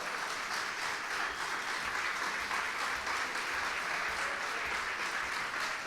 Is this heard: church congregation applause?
yes